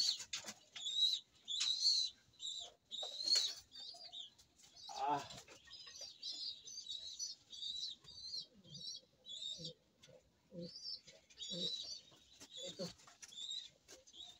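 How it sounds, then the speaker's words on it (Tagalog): Soft cooing and chirping pigeons mixed with wing flutters, fairly quiet and intermittent, with brief rustling and a voice murmuring nearby. "Itong ating ibon na si Cookie."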